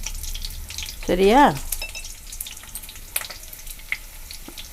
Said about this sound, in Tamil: நம்ம இதை கொஞ்சம் கொஞ்சமாக போட்டு பொரித்து எடுத்துடலாம்.